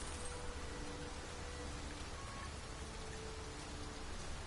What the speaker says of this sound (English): We must be really down on our luck to get caught out in such a downpour.